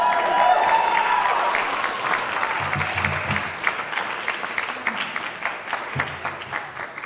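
A congregation at an interfaith Pride church service breaks into sustained applause, loud and dense at first, then thinning into scattered claps, with a few faint voices under it.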